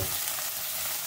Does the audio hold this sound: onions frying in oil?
yes